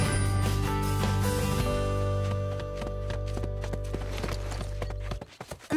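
Rhythmic clip-clop of cartoon horse hooves trotting on a ranch, steady and moderately close, under a sustained music score.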